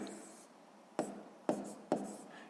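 Pen strokes writing a fraction calculation by hand on paper, with soft scratching and three distinct taps or stroke starts spaced about half a second apart, close and fairly quiet.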